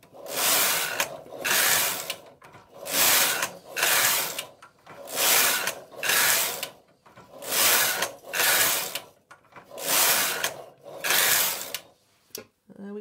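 Silver Reed knitting machine working racked and swung rib stitches, its carriage swept back and forth in about nine regular rasping, clattering passes, close and clear with short pauses between strokes.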